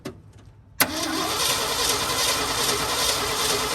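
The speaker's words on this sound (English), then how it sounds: "Go ahead and crank it." A 1967 Ford F-350 truck that sat unused for ten years is cranked, a brief quiet stretch broken by a sudden burst into a steady, loud churning engine drone that carries on to the end.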